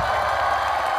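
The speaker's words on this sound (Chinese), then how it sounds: "掌声欢迎。" A television variety-show studio audience applauds to welcome guests onstage, a dense, steady wash of clapping, loud and continuous throughout the short moment with no speech over it.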